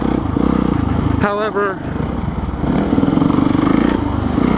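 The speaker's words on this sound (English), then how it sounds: "this KX is, it's still a race bike for sure." A Kawasaki KX race dirt bike engine runs loud and steady while being ridden, its droning buzz continuous under a voice speaking briefly partway through.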